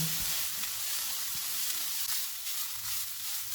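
A chicken cutlet mixture with crushed black pepper and red chilli frying in a pan gives a dense, steady sizzle and crackle throughout, close and continuous with a few faint stirring taps.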